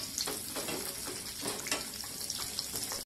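Cashew nuts and raisins fry with a soft sizzle while a spoon stirs them in repeated scraping strokes, close by and fairly quiet.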